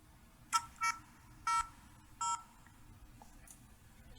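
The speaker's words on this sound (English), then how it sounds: "Sounds like an old phone from 1971." A GoPro 10 action camera gives a string of short electronic button beeps, four distinct tones spaced unevenly like dialing on an old telephone, then a fainter pair of blips, quiet and close with no talk.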